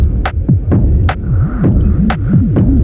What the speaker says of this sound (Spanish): y aparte de eso le acabamos de poner una reverberación.